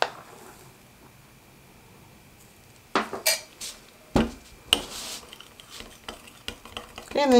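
A spoon scrapes and knocks against a beaker while bubble bath surfactants, Bioterge AS40, cocamidopropyl betaine and SLSa, are stirred, giving irregular close clinks and scrapes after a quiet start.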